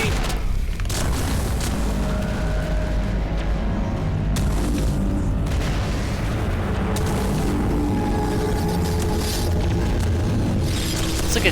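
Explosions like giant cannon fire in the Mass Effect 1 video game: a sustained, loud barrage of deep booms and rumbling blasts with sharp impacts scattered across the whole stretch, dense and close.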